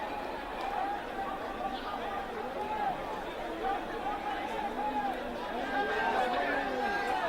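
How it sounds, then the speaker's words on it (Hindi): A large gathering of protesting students in Prayagraj, angry over PCS and RO-ARO exam dates, fills the air with steady overlapping chatter and shouts, a dense outdoor hubbub that never lets up. "प्रयागराज में हंगामा हो रहा है छात्रों का"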